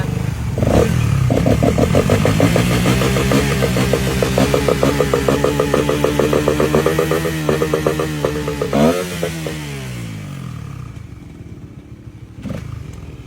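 A motorcycle engine idles and revs in a loud, rough, throaty run with a steady pulsing beat, swells near the end and then drops away, leaving a brief clatter.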